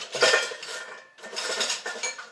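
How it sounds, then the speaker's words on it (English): Dishes being washed by hand at a kitchen sink, with cutlery and pots clinking and rattling in two close bursts split by a brief pause, moderately loud and with no voices. "I don't like doing dishes, but they must be done."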